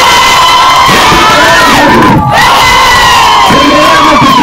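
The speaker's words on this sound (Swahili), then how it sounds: "Wapi makofi ya Ruth?" A large crowd of schoolgirls at a cultural day event cheers, whoops and shouts loudly for Ruth, a continuous roar with overlapping high voices and a brief dip in the middle.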